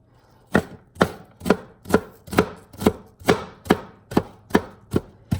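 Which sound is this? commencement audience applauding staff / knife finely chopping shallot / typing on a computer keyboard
knife finely chopping shallot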